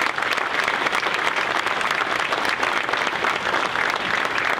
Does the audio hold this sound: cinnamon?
no